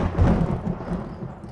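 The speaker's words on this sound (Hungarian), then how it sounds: "Dörög az ég." Low rumbling thunder in the survival video game 7 Days to Die, a steady loud roll swelling early then settling into a sustained grumble, heard alone without voices.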